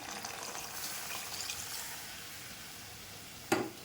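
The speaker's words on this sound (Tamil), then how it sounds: "நான் கரைச்சி வச்சுருக்கிற புளி தண்ணியும் ஊற்றுறேன்." Tamarind water goes into a pot of boiling bitter gourd sambar, giving a close bubbling, sizzling wash with a brief sharp splash near the end.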